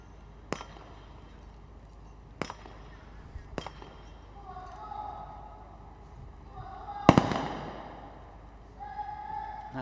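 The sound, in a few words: sniper rifle shots at targets in SWAT competition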